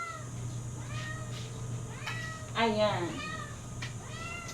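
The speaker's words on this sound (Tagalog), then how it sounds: "Ang ingay ng pusa." Hungry house cats meowing insistently, several rising and falling cries with one louder drawn-out yowl near the middle, heard over a steady low hum with a brief spoken word.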